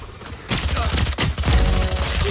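Gunshots in a competitive shooting video game, a few sharp close shots in quick succession over ambient game background, brief and punchy.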